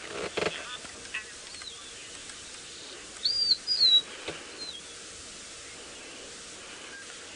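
A rufous-naped lark sings on an early-morning safari drive in African bush, giving a few short, thin whistled phrases at moderate distance over steady background hiss.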